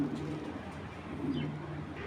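A racing pigeon coos softly in low, throaty murmurs over a faint background hum.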